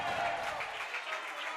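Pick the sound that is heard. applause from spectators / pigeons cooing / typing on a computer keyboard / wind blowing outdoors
applause from spectators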